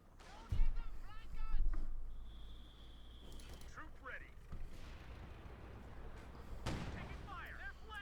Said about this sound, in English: Lots of artillery, in fact, called in. Major barrage, mortar barrage.